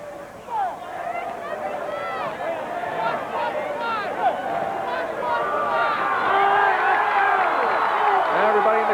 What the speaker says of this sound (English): Now everybody in the crowd is chanting 1:15